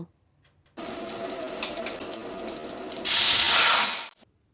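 Spices and a splash of water hit hot oil in a pan while cooking flat beans. A steady sizzle lasts a few seconds, then swells into a loud, steamy hiss for about a second before stopping abruptly, with no talk.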